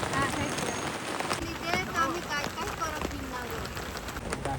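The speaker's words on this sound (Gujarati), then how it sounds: "બહાર છે ને ફૂલ વરસાદ ચાલુ થઈ ગયો છે" Heavy rain pouring outside a shop where people shelter, a dense continuous patter and splatter close by, with people talking over it.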